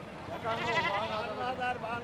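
Goats bleat in wavering cries at a crowded Qurbani cattle market in Bangladesh, heard close amid people talking nearby.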